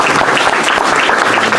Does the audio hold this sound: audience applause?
yes